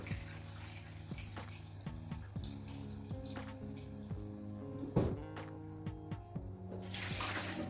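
Cold water runs steadily from a tap over tomatoes in a sink or bowl, with occasional clinks and a soft knock partway through, no voices.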